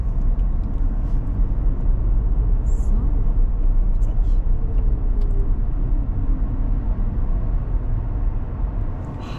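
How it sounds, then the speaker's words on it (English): An electric car slows smoothly to a standstill using purely electrical braking, heard from inside the cabin as a steady low road and motor rumble that gradually eases, with people talking over it. "here you can see that we came to standstill purely by electrical braking"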